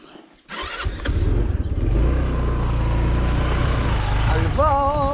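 Scooter engine starts after a short quiet moment, then idles and runs with a steady buzzing drone, close by, with brief voices near the end.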